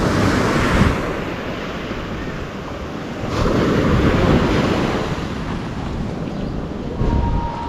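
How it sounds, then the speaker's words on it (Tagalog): Heavy ocean surf crashes and rumbles continuously, with wind buffeting the microphone and swells building in louder surges. "Grabe man ang alon."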